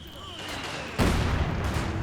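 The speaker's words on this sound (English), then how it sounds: "Great mortar hit there onto the Panzer Grenadiers." Mortar fire in the Company of Heroes 2 battlefield: a low background rumble, then one sudden heavy impact blast that lingers as a rumbling wash of debris.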